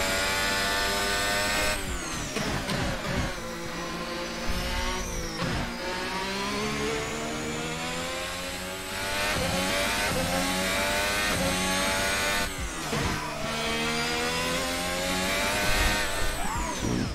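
Formula 1 racing car engine from the F1 2021 game at Zandvoort revs hard and continuously, pitch climbing and dropping through gear shifts over a long hot lap, loud and close with no talk.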